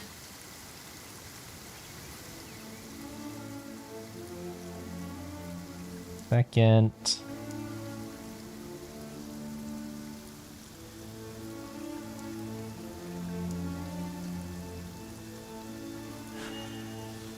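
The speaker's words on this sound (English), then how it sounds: "Let us find shelter from the rain." Steady rain falls across a Genshin Impact game scene, a dense even hiss lasting throughout, with music playing beneath and a brief loud burst partway through; a voice speaks briefly.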